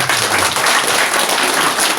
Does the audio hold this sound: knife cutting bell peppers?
no